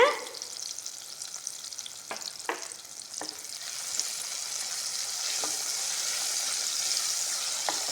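Tomatoes sizzle and crackle steadily in a hot pan, with a few scraping stirs near the start, close and fairly quiet.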